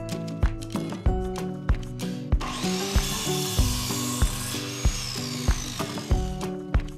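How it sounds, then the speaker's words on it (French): A wooden board being sawn to size by hand, with loud, regular back-and-forth saw strokes cutting through the wood in a steady rhythm close up. "Coupez les côtés sur mesure, ensuite coupez également la planche inférieure."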